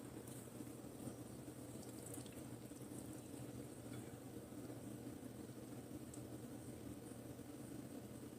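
Homemade organic elderberry syrup trickles through a strainer into a glass cup, a faint, steady watery pour under a low background hum.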